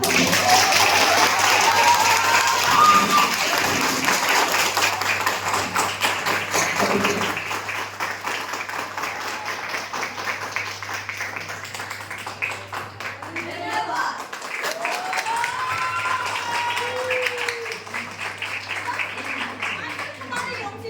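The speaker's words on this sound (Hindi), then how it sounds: "तो दर्शकों इनके लिए जोरदार तालियां।" Audience applause following a state-level school science drama competition at a science centre in Itanagar, sustained clapping from a crowd lasting throughout, with voices talking over it.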